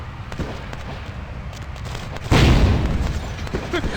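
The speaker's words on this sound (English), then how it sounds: "he's gonna walk to his left and get hit by a massive explosion" A massive explosion in the video game Vampire: The Masquerade - Bloodlines bursts out as one sudden loud boom over a steady game ambience, then decays into a rumbling tail.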